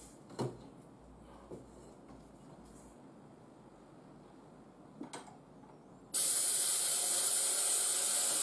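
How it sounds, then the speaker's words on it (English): An airbrush being cleaned between paint colours gives a few soft clicks and taps, then a sudden loud, steady hiss of spraying air that starts partway through and carries on to the end. "Let me just try to clean the airbrush."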